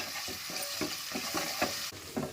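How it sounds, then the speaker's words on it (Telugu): Onions frying in plenty of oil for Andhra prawn gongura curry, a soft steady sizzle broken by rhythmic spatula strokes about every third of a second, close and fairly quiet, with no voices. "ఈ ఉల్లిపాయలు కాస్త లైట్ కలర్ వచ్చేంత వరకు ఫ్రై చేసుకుందాం."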